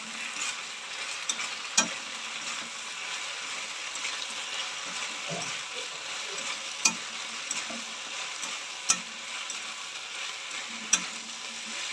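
Paneer cubes sizzling in a pan for chilli paneer, stirred with a utensil that scrapes a few sharp, spaced clicks against the metal over a steady, moderately loud frying hiss, with no voices.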